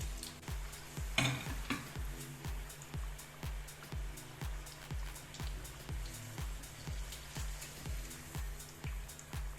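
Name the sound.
Irish potatoes frying in oil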